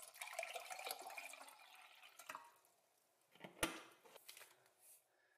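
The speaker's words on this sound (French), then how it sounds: "On commence par ajouter un peu d'eau" Water poured into a container to start a glue-free slime, a faint close splashing trickle that fades, followed by a few soft drips and a light knock, with no talk.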